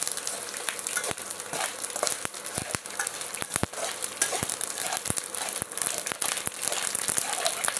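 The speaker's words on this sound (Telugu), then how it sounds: "మిరపకాయలు మసాలాలు అన్నీ వేసేసి బాగా వేపేసుకోవాలండి" Dried red chilies and spices roast in a hot pan with continuous close crackling and sizzling, punctuated by sharper pops and stirring scrapes.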